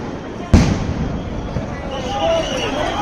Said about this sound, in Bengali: আবারও সাউন্ড গ্রেনেড মারছে পুলিশ।